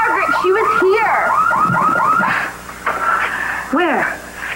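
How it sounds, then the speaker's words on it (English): A house security alarm goes off with loud, rapidly sweeping electronic tones that rise and fall over and over. It drops a little in level partway through, with no clear talk. "Star, did you set off the alarm accidentally?"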